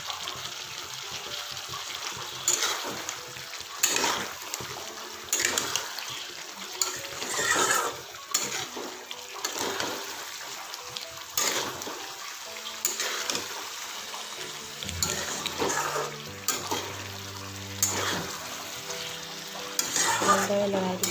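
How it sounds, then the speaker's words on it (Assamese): Jackfruit fries with spices in a pan, a steady soft sizzle broken by repeated scraping stirs and clinks of the utensil, fairly quiet and close. "এতিয়া মই কঁঠালখিনি দি পেলাই ভাজি থাকিম।"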